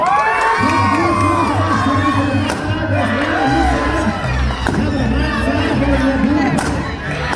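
Children cheer and shout loudly for their teams during a balloon-popping contest at a SeaWorld Orlando show. The crowd roar is constant, with whoops and sharp pops breaking through, and voices are heard over the din.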